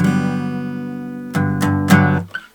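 First chord strummed on an acoustic guitar, one chord left ringing steadily, then three quick strums in a row, close and clear, with no voices.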